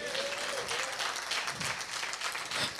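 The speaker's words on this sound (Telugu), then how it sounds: "చప్పట్లు కూడా దేవుని మహిమపరచండి." A church congregation claps along during a sermon, a dense wash of applause from many hands filling the space steadily from start to finish.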